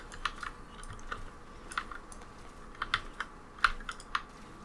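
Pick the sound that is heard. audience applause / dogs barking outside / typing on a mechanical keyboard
typing on a mechanical keyboard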